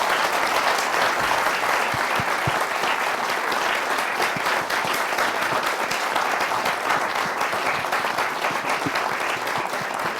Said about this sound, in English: deserve another round of applause, please.